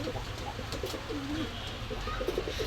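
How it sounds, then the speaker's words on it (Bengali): Nepali pigeons coo in a bird shop, soft rolling calls repeating close by over a constant background hum. "দর্শক, এখানে আরও কিছু কবুতর আছে"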